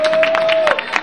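An audience at a dance awards ceremony gives a short round of applause, dense clapping with a thin steady tone running underneath.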